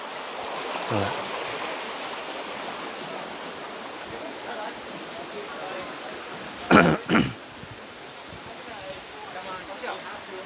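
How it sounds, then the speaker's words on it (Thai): A stream of cold water pours out of Chang cave near Vang Vieng, Laos, in a constant close rushing hiss, with a couple of short coughs or throat clears partway through. "น้ำไหลมา"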